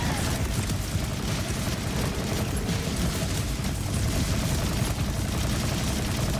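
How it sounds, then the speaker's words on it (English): Sustained rapid gunfire in the shooter game Borderlands 4, a dense barrage of shots and booms continuing without pause at a steady, fairly loud level. "Who's shooting?"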